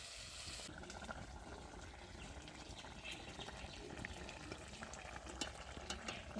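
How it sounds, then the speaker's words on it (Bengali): Water is poured into a simmering curry in a pan during home cooking of a thin fish curry, giving a faint, steady liquid trickle and gentle bubbling that carries on throughout. "তাই জন্য একটু জল দিয়ে দিচ্ছি"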